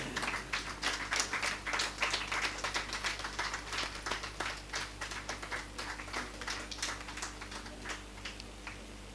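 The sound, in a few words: audience applause welcoming a guest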